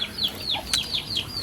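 Chicks cheep in a series of high, sliding peeps at a fairly steady rhythm, fairly close and clear, with faint low background noise and no talking.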